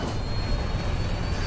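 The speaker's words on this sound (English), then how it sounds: "The plane is diving towards the sea." A loud, steady roar of an airplane engine fills the clip, continuous and close, with no voices.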